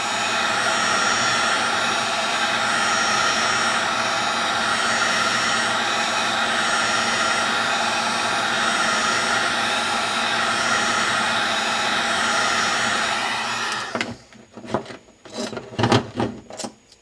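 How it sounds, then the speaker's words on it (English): A heat gun blows steadily as it warms a car tail light, a continuous close hiss and whoosh lasting about fourteen seconds before cutting out into a few short bumps and handling noises. "The heat gun also takes time to heat itself up too."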